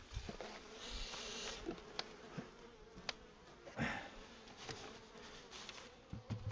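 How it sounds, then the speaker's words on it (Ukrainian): Honeybees and a drone hum steadily at the hive, a close, continuous insect buzz with faint scattered taps and no voices. "Чудо-юдо, трутень літає."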